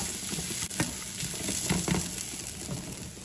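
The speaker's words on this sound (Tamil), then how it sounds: "நல்லா இப்படி வதக்கி விட்டுக்கோங்க." Onion and grated coconut sauté in a pan, producing a constant close sizzle with occasional stirring scrapes and light clinks, and no voices.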